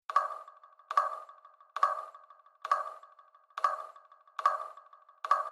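A synthesized alarm sound effect built from internet samples, with aggressive distortion and a flanger, repeats as seven evenly spaced, buzzy pings about once every 0.9 seconds, each ringing briefly before the next.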